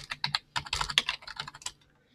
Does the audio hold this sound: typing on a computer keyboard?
yes